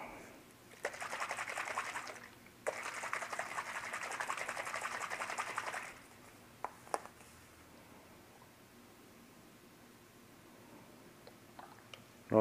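An airbrush sprays Duracoat paint onto an AR rifle in two steady hissing bursts of a few seconds each, followed by quiet handling noises, soft and close.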